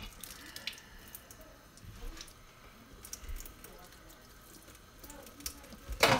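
Tap water running faintly while someone washes, a low continuous trickle with small splashes and a louder splash at the end, under quiet background talk.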